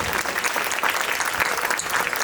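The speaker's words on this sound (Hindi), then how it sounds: "इनके लिए जोरदार तालियां बजा दीजिए।" An audience at a school annual function in Indore claps loudly and continuously, a dense, even burst of applause filling the hall with no break.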